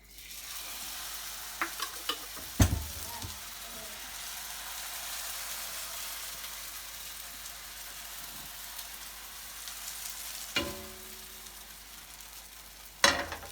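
Green pancake batter frying in a pan, a steady close sizzle running throughout, with a few sharp clinks of a utensil against the pan.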